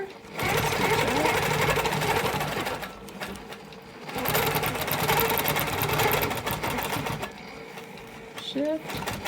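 A sewing machine stitches a wholecloth quilt in loud, fast runs of mechanical whirring and rattling, broken by short pauses between bursts, with brief talk.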